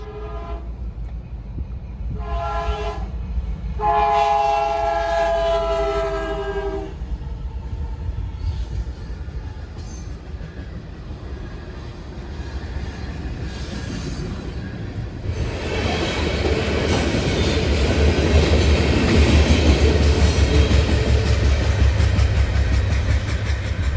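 A long freight train of covered hoppers rumbles past a crossing as the horn blows several loud sustained blasts early on, then the rolling wagons grow louder and dense with clatter and wheel noise, no talking.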